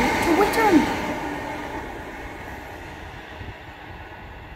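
Class 323 electric train, unit 323202, passing through Duddeston station, heard as a fairly loud rolling rumble with a brief higher squeal near the start, then fading steadily as it moves away.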